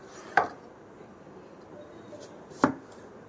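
Two sharp knife chops through onions land on a cutting board, spaced a couple of seconds apart, in an otherwise quiet room.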